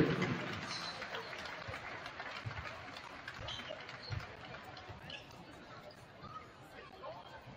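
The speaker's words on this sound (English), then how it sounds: "let's give our seniors one more last roaring round of applause" A crowd at a high school boys' varsity basketball game applauds and cheers for the seniors, a fairly faint wash of clapping and chatter that loudens at first and then slowly tapers off.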